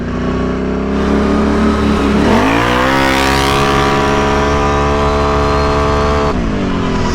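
A Can-Am Renegade ATV on nitrous roars loud and close, its engine note climbing sharply into a high sustained scream, then dropping back near the end.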